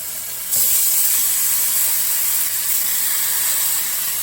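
A salmon fillet, seasoning side down, is laid in a hot pan and searing. A loud, steady sizzling hiss bursts in after a brief pause and carries on unbroken, close to the microphone.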